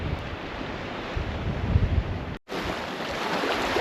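Sea waves wash over the rocks below a cliff on the Madeira coast in a steady broadband roar. Wind buffets the microphone, and the sound cuts out briefly near the middle.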